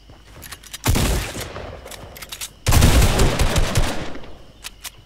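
Two long bursts of rapid assault-rifle fire in a Fortnite match, loud and close, each a fast crackling string of shots followed by a few scattered single shots.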